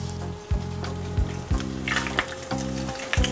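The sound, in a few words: herring frying in hot olive oil in a pan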